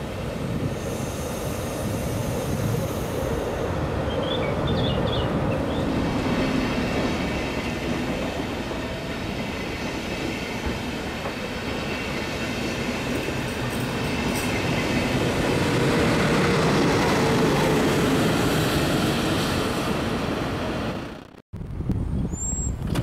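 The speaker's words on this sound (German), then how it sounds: "sehen wir einen Zug nach Schwäbisch Hall-Hessental einfahren" A regional train pulls into Stuttgart-Bad Cannstatt station, a long steady rumble of wheels on rails with faint squeals and clacks, loud and near throughout before an abrupt cut near the end.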